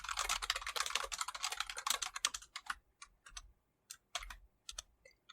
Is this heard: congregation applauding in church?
no